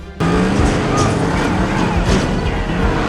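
Karts racing along the glowing Rainbow Road in The Super Mario Bros. Movie (2023), a steady loud engine roar with a passing whoosh and faint skid hints, starting abruptly after a brief quiet moment and holding continuous throughout.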